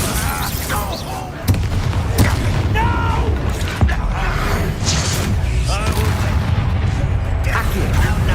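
Bombarda blast spells in Hogwarts Legacy crack out as repeated sharp booms amid dense game-battle noise, with a voice talking over the explosions throughout.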